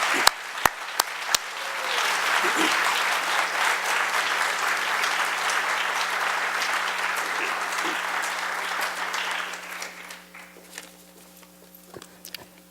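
An audience at a lecture applauds a speaker coming up to the podium, with a steady, full round of clapping that swells and holds for several seconds before thinning out into scattered claps.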